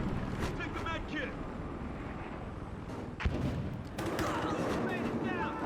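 Gunfire in the video game Battlefield Hardline, a police robbery mission with bursts of shots and rattling automatic fire behind shouted radio-style voices and game noise.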